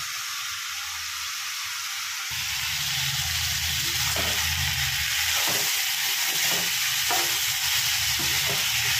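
Continuous loud sizzling of spice paste frying in a pan for a green fig curry, with occasional clinks and stirring noises.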